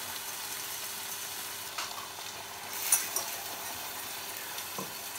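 A pan sauce reducing beside grilled ham, a steady soft sizzle with a few faint clinks and stirring scrapes, no voices.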